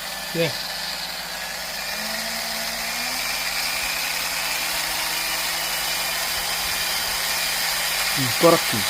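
A small RC car motor runs steadily on throttle, giving a constant mid-pitched whine and hum that rises gently partway through, with brief voices near the start and end.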